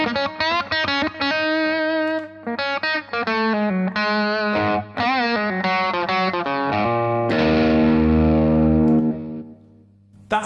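Electric guitar played through a Little Green Wonder overdrive with a boost pedal switched on: loud, sustained distorted notes and chords in a busy phrase, ending on a big ringing chord that slowly fades out.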